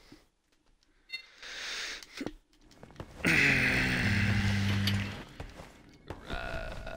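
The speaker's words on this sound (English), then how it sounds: "Oh, fire alarm." Fire alarm in the Breakdown video game on Xbox: repeated electronic tones sound loudly amid game noise and music, with a sustained alarm section in the middle of the clip.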